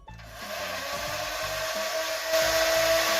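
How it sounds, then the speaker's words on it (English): A Dart Zone Adventure Force Double Trouble dart blaster revs loudly and steadily with its motors whining, alone and close, rising a little louder partway through. "Nothing wrong with the blaster, it's just really loud."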